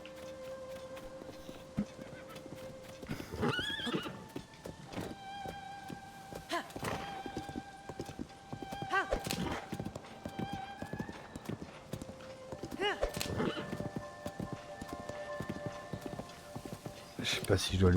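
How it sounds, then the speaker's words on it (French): A horse in Zelda: Tears of the Kingdom clip-clops with repeated hoof steps and gives occasional whinnies, moderately loud over game ambience, with a person talking throughout. "Je sais pas si je dois laisser mon cheval ici."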